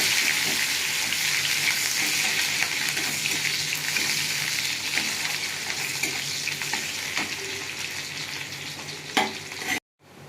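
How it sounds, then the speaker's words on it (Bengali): Onions frying and sizzling in a hot wok with whole garam masala and dried red chillies, a steady loud crackle with occasional stirring scrapes, ending abruptly. "পেঁয়াজটা একটু ভাজা ভাজা করে নেবো।"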